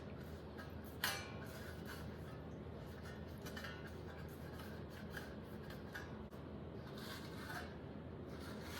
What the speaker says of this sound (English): Still wiping, cleaning things off.